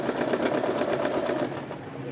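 A sewing machine running steadily while quilting inside a Missouri prison, a fast continuous mechanical whir and needle chatter, close and unbroken, easing slightly toward the end, with no talk.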